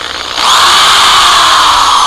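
Power drill with a cleaning attachment working corrosion off an aluminum Harley wheel: a loud, close, steady high whine that starts abruptly after a brief pause and holds constant.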